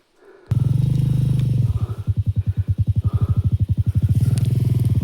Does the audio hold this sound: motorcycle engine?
yes